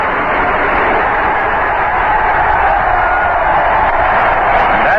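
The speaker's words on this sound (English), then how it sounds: "Just a crowd reaction to a string of firecrackers that have sounded back up in the caverns of Shea Stadium somewhere." A large stadium crowd at Shea Stadium during a 1973 NLCS baseball game roars in a dense, sustained wash of voices, reacting to a string of firecrackers set off somewhere in the stands.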